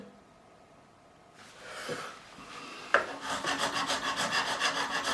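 A coarse file shaping the nut of a Harley Benton RB-600 Rickenbacker-replica guitar: a few light scrapes, then a fast, even series of loud rasping strokes close by.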